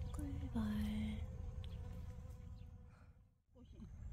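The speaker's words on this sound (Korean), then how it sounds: "꿀벌." Honeybee buzzing among cucumber plants in a home vegetable garden, a steady close drone with a rising hum early on, heard under faint background sounds.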